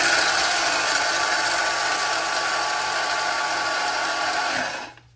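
Electric grinder grinding coffee beans for French press coffee, a loud continuous high whirring buzz running steadily for several seconds, close by, then winding down and stopping at the end.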